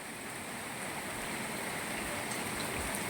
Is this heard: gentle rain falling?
yes